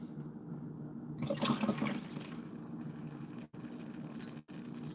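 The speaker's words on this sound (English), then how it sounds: "now I will pour the rest in here." Fresh beet juice, foamy from the juicer, is poured into a container, making a steady close liquid rush with a brief louder gush near the start, heard alone.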